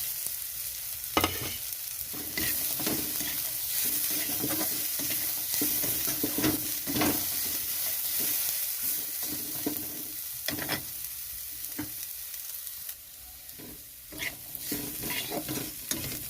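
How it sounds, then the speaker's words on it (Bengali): Steady sizzling of cashews and melon seeds frying with onion in a pan, with scraping stir strokes throughout; no voices. "এখানে পেঁয়াজটা একটু ভাজা হয়ে গেছে এখানে আমি দিয়ে দিচ্ছি কাজু আর চালমগজ"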